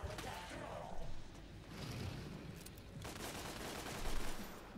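Rapid bursts of gunfire ring out in Devil May Cry as spiders are shot. The volleys are fairly faint and come in clusters over a noisy game backdrop.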